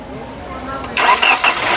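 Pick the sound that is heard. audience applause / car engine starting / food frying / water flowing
car engine starting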